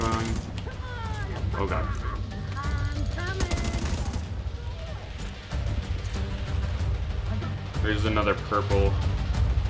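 Rapid gunfire in The Division 2 video game, bursts of automatic shots and impacts under a player talking, with a short lull before firing resumes.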